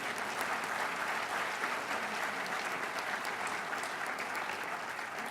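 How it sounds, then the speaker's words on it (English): Steady, dense applause from a large audience at a county government State of the County address, filling the room evenly and continuing without a break. "she deserves a round of applause"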